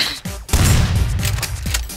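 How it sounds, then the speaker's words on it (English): Gunfire in the video game Rust: a few sharp reports followed by a heavy, booming burst that rolls on with a low rumble, loud and close, with no voices. "I just hear all these gunshots"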